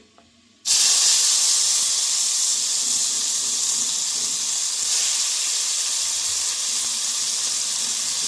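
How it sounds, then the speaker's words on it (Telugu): Onions drop into hot oil for a gongura mutton fat curry and burst into a loud, sustained hiss that starts abruptly after a quiet moment and keeps sizzling steadily close by. "కొంచెం వేడైన తర్వాత ఆనియన్స్ వేయాలి"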